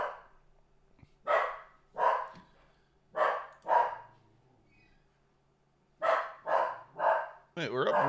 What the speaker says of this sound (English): Maxie, what are you barking at?